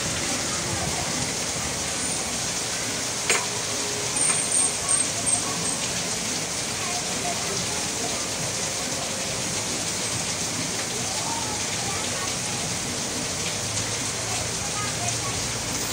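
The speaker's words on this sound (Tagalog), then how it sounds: "ang lakas na ng buhos ng ulan" Heavy rain pours down in a dense, steady hiss during fishing, close and continuous, with a brief faint click partway through.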